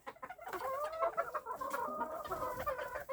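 Bantam chickens and cockerels cluck and call close by in a busy, overlapping stream of squawks and clucks, with no one talking.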